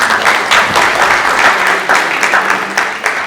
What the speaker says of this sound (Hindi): तालियां इसके लिए भी जोरदार हो